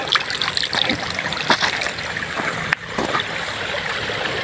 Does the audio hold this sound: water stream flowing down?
yes